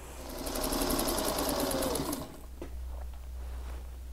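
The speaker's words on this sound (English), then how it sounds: "I'm just going to give this a real quick little sew right here" A sewing machine runs steadily for about two seconds, stitching half square triangles for a quilt block, then stops, leaving a low hum and a few small clicks.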